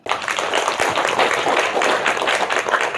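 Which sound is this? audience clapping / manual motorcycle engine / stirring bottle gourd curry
audience clapping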